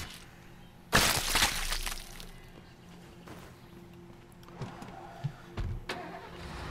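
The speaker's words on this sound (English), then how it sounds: "I just hear a car? Screeching tires?" Car in the video game State of Decay skidding with screeching tires: a loud sudden burst with a crash-like edge, then quieter scattered thuds and rattles over a low steady rumble.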